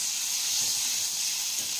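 Snake gourd sautéing in a pan with chili, turmeric, cumin and garlic gives a brief, steady hiss of sizzling oil, close and fairly loud, with no voices.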